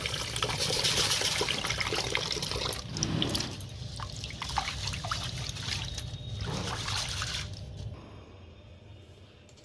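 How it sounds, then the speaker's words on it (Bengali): Red lentils are rinsed in water in a home kitchen, a close sloshing and trickling with squishy stirring that runs continuously, then thins to softer dribbles near the end. "আমি মুসুর ডালটা ধুয়ে নিচ্ছি।"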